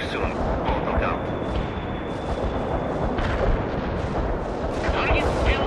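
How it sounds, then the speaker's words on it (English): Artillery barrage in the video game World in Conflict, a dense continuous rumble of blasts and booms, loud and close throughout, with voices talking underneath. "Firing orders. The barrage will reach you soon."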